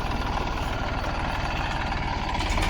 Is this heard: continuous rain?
no